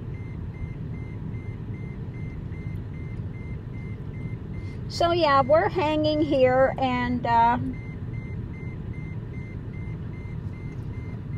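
A faint electronic beep repeats at an even, rapid pace throughout, steady in the background, while a person talks briefly partway through.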